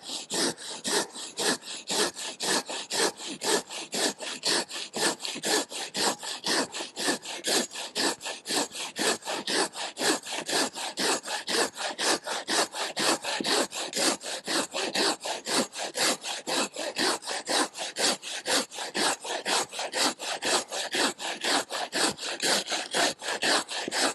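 A Silky Bigboy Japanese pull saw cuts through wood in a steady rhythm of rasping strokes, roughly two per second, close and loud, continuing evenly with no voices.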